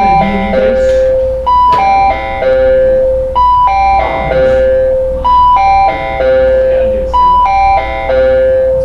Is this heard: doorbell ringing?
yes